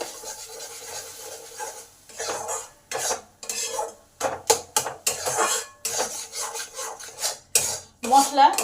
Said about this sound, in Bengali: এবার এই সমস্ত মশলাগুলো ডাঁটার পাল্টের সঙ্গে ভালো করে এক মিনিট নেড়ে নেব